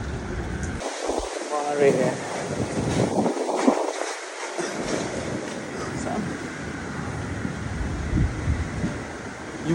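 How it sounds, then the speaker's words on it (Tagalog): Strong winds from Typhoon Ragasa roar and buffet the microphone in Macau, a loud, steady rushing that fills the whole stretch while a voice speaks briefly near the start. "Yung ang lakas ng hangin, Mare."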